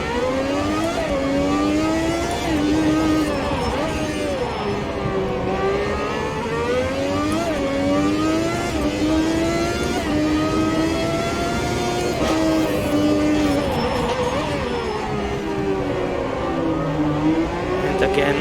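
A race car engine at full throttle in Automobilista 2, revving high and climbing through the gears with a whining tone that rises and falls steadily for many seconds.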